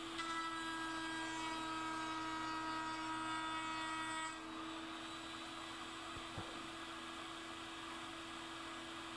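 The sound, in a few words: router table cutting a dovetail with a dovetail bit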